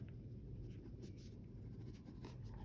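Faint scratchy strokes of writing on a board in a classroom, soft and intermittent over a low background hum, with no talk.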